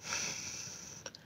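A brief nasal sniff close up while smelling Al Rehab Silver perfume before any spraying, a short sharp intake rising out of a faint steady background hiss.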